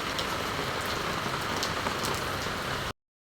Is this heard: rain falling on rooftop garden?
yes